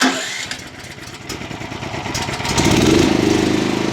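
A small farm generator is started with its starter after the air damper is closed, cranking briefly before the engine catches and settles into a loud, steady mid-pitched running drone, close by.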